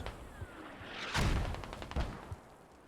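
Incoming mortar rounds land in a Squad match, producing a whooshing descent followed by a few dull, distant thuds and booms, fairly faint, with no voices.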